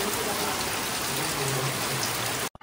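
Rain falling steadily outdoors on farmland, a dense even hiss of drops that holds at a constant loud level before cutting off abruptly at the end.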